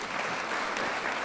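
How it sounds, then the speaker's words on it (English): A crowd at a sports hall of fame ceremony applauds in a brief, steady burst of dense clapping. "You can clap for that."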